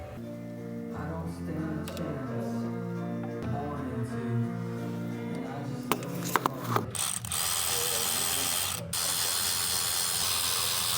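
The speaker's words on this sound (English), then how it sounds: "now I'm going to be putting the valve covers back on" A ratchet clicks and ratchets in steady bursts while valve covers are bolted onto a Chevrolet ZL1 V8 engine during a heads and cam rebuild, with clanks of metal parts near the end amid a hissy background.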